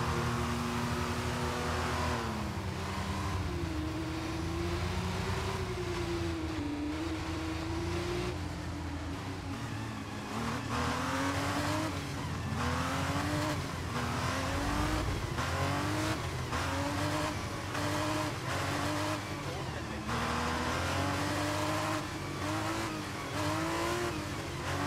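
F2 race car in the video game F1 23 at the Spain circuit, engine screaming continuously as it revs up and down through gear changes for the whole stretch, loud and close with occasional tire noise.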